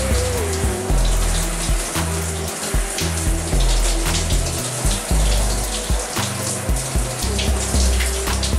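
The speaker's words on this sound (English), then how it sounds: "but still rinse it off." Tap water runs steadily while a tablet is rinsed under it, with a loud, close splashing stream and uneven spatter as the water hits the device, no voices present.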